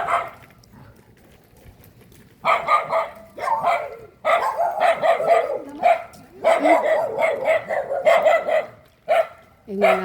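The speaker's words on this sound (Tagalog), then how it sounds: "Yan ang aso ng ano." Several dogs from houses in a residential neighborhood bark in sharp, repeated bursts, fairly close and loud, with short pauses between volleys. People talk casually nearby.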